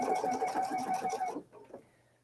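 A PFAFF sewing machine stitching ribbon down runs in a rapid, close mechanical whir for over a second, then stops, leaving faint handling noise.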